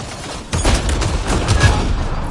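Gunfire in the video game Mass Effect Andromeda, a loud sustained volley of rapid shots that starts abruptly after a brief lull and keeps going, with heavy booming impacts and no voices.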